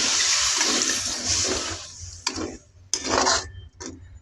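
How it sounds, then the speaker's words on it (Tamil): Second coconut milk poured into a village-style crab gravy, a liquid pour heard close up, then short splashing and clinking bursts of stirring in the pot. "இதில் நான் 2வது தேங்காய் பாலை சேர்த்துக்கொள்கிறேன்."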